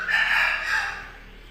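An Aseel rooster crows once, close and loud, a single drawn-out call that fades at the end.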